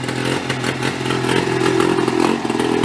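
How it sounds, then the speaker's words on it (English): An old golf cart fitted with a big engine idles roughly with the choke off, a loud steady chugging drone that sputters and strains as it fails to rev up. "it'll idle the choke off and doesn't want to rev up."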